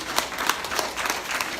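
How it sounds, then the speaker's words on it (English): A small crowd claps after an IRONMAN Wisconsin race, a brief burst of scattered handclaps, fairly close and moderately loud, without speech. "This guy deserves a round of applause."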